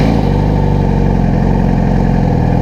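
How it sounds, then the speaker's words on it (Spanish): A Yamaha R6 motorcycle engine runs at a steady, loud idle close by, a constant throbbing hum with no pauses. "Voy a encender la moto para que caliente nuevamente."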